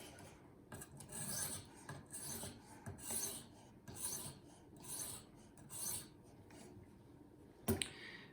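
A kitchen knife is stroked across a 1500-grit sharpening stone, close, rhythmic rasping passes roughly once a second, each swelling and fading, followed near the end by a sharp knock as the blade or stone is set down.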